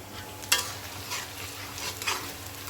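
Garlic cloves frying in a pan, a steady close sizzle broken by a few sharp scrapes of a spoon stirring them, with no voices.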